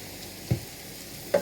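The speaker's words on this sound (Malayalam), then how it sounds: "ഉപ്പിട്ട് നന്നായിട്ട് ഇളക്കി നന്നായിട്ട് കിടന്ന് വാടട്ടെ." Green chilli and ginger frying with salt in a pan for a Kerala-style chicken coconut milk curry, heard as two brief stir-and-scrape strokes over a faint steady sizzle, close and quiet.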